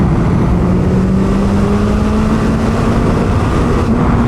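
A turbocharged Suzuki Hayabusa motorcycle pulls hard at half throttle in fifth gear, its engine a loud, steady, close roar with a rising whine throughout and no voices.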